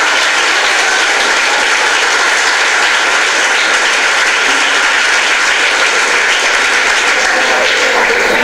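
Sustained applause from a church congregation at a sermon, a dense steady roar of clapping that carries on without a break for the whole stretch.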